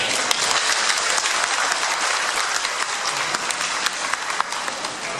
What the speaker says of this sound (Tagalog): Nakita ko yung mga pumalakpak, sige kayo.